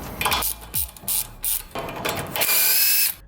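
A ratchet fitted with a 19 mm socket works a nut loose on a vehicle's steering knuckle, giving quick, close clicking bursts in short strokes followed by a longer, steadier run of rapid clicks.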